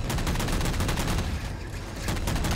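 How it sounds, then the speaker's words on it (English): Sustained gunfire from Halo 4 gameplay, a dense, loud run of rapid shots that rattles on continuously with a brief lull in the middle before picking up again. "those gunshots are not coming from a Banshee"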